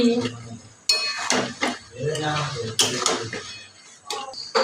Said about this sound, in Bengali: মাংসটা এবার আমি কষে নিচ্ছি